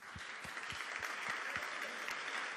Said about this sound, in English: give a big applause to Peter Warner